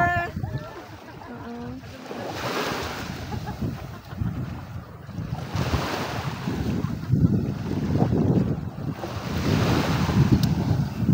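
Surf rolls in and washes up in repeated surges, with strong wind buffeting the microphone and a voice talking over it.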